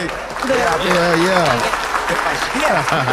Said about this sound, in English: hey, Coach, hit the applause button